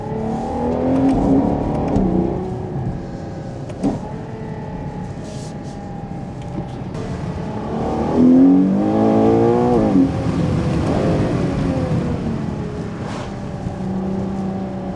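A Ferrari Purosangue with its V12 engine drives along in cold weather, the engine note holding a steady drone with rising and falling harmonic sweeps as it revs and shifts, loud and close throughout without talk.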